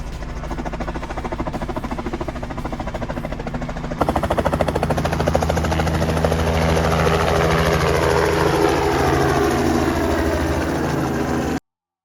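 A tour helicopter lifting off in Branson, Missouri: a steady rapid rotor chop and engine whine that steps up sharply in loudness partway through and holds strong and close until it stops.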